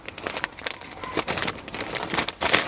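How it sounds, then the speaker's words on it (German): A plastic bag from a Tesla Model Y add-on kit holding screws and a microfiber cloth is pulled open, giving a close, continuous run of crinkling and rustling bursts with no talk. "Wenn man die Tüte aufkriegt,"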